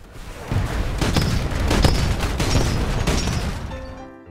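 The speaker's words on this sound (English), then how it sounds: "just the thud of the 40mm cannon is just so satisfying" Gunfire and heavy thudding blasts from a 40mm cannon in the Titanfall shooter on Xbox One, a dense, continuous barrage of booming shots at steady loud level, with no talking.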